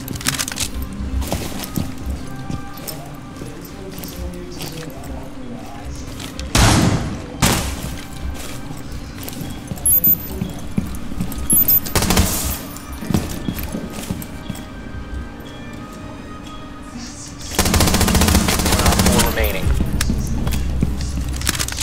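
Gunfire in Rainbow Six Siege, several sharp loud bursts and a longer volley toward the end, spaced among quieter in-game footsteps and ambience while players talk.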